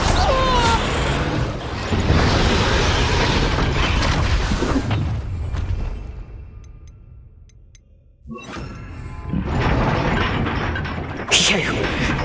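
Confringo fire spells bursting in Hogwarts Legacy combat, loud booming blasts and crackling impacts during a dense fight, briefly dropping to near silence before another burst, with voices speaking over the action.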